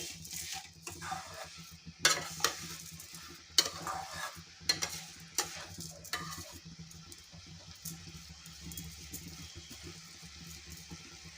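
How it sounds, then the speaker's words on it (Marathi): Grated carrot and sugar are stirred in a pan for carrot halwa, with repeated spoon scrapes and knocks over a low, steady sizzle that fades toward the end. No one speaks. "तर ही साखर अशी आपल्याला मिक्स करून घ्यायची आहे गाजराच्या खिसामध्ये"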